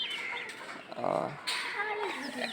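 Chickens cluck and rooster-like calls sound at a poultry shop, close and moderately loud, mixed into steady conversation between buyer and seller.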